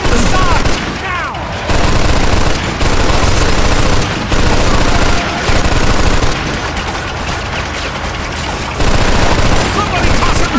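Heavy artillery and automatic gunfire in the video game Mafia 2, loud, dense fusillades arriving in several sustained bursts separated by brief lulls, with booming impacts underneath.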